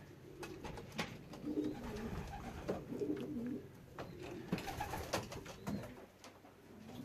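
Racing pigeons coo softly at their loft in a series of low, rolling calls, with faint scratches and movement around them. The calls are quiet and close, and no one speaks.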